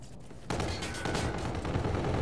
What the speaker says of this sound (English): Too much shooting.